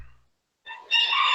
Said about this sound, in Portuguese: olha o galo cantando aí